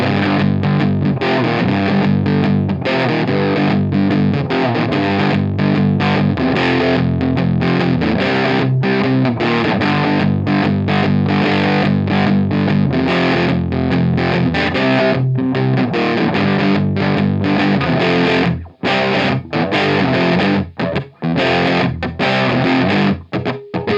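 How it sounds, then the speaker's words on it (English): Heavily fuzzed electric guitar through a Big Muff fuzz pedal plays thick, saturated chords in a dense wall of sound, with brief choppy stops near the end. "the Big Muffs to get that powerful distortion sound"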